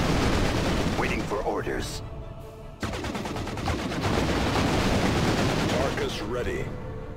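Sustained gunfire and explosions rattle through a Warhammer 40,000: Dawn of War II – Chaos Rising battle, dense bursts of shooting with brief lulls while a voice speaks over the din.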